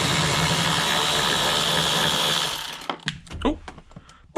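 Ratchet spinning a Torx bolt out of a Jeep TJ during a grab handle install: a steady whirring, buzzing mechanical sound for about two and a half seconds, then scattered clicks and light handling noises.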